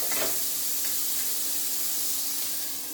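Prawns stirred in a pan with salt and turmeric, a soft continuous sizzle and hiss close by with a brief scrape near the start, no voices.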